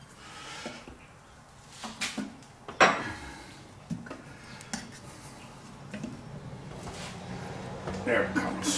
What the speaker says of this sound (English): we'll put one of our spoons in there and just force that tire right off